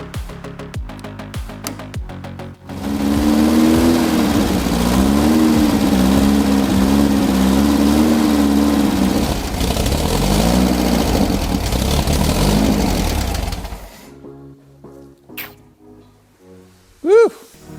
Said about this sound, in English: Try to turn the idle up so it'll actually stay running for me.